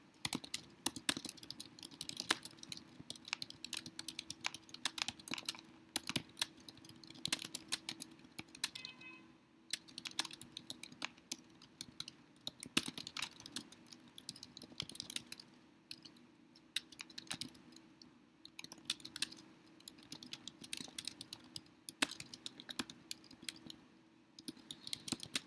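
Steady typing on a computer keyboard, with quick irregular key clicks and short bursts running continuously at close range, no voices present.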